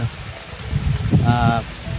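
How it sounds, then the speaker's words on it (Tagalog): Rain falling outdoors while people shelter under a tree, a steady broadband patter with voices talking over it and a brief tonal sound near the middle. "siguro lilipas lang tong ulan na to"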